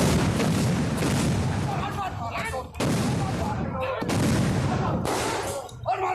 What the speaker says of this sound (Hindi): गोलीबारी की आवाजें हम देख रहे हैं, तितर बितर होते हुए लोग देख रहे हैं।